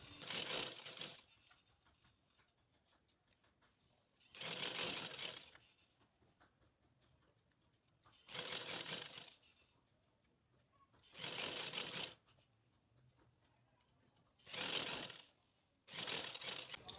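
A sewing machine stitching along the edge of a trouser hem, running in six short bursts of a second or so, separated by quiet pauses, fairly close and moderately loud.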